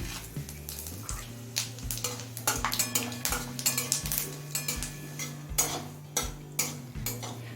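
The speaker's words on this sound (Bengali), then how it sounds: "তেলটা হাই ফ্লেমে গরম করে নিয়েছি এবার দিচ্ছি চারটি শুকনো লঙ্কা আর এক চামচ পরিমাণে দিচ্ছি পাঁচ ফোড়ন" Four dried red chillies and a spoonful of panch phoron frying in oil heated on high flame, with a rapid patter of ladle clinks and scrapes against the pan over a faint sizzle, steady and close.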